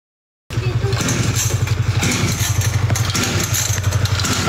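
A motorcycle engine revs and idles close by, a loud, throbbing, rapidly pulsing exhaust that starts abruptly and holds steady.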